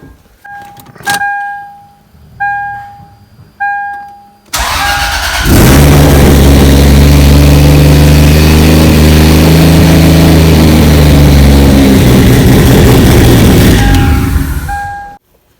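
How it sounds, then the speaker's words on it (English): A Toyota 1JZ/2JZ-GTE VVTi engine swapped into a Lexus IS300, running with an essentially open turbo, cranks and fires after a few dash chimes, then roars loudly and steadily at close range before cutting off. "It's going to be super loud because it's pretty much open turbo."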